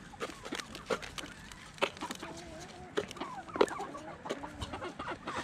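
Chickens cluck repeatedly at close range while being fed outdoors, a busy run of short clucks and squawks with a few louder calls over a low background.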